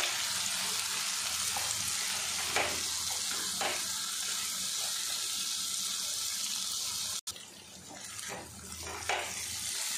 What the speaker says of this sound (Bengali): এবার নাড়াচাড়া করে ডিম আর বেগুনটা আমি ভাজা ভাজা করে নেব।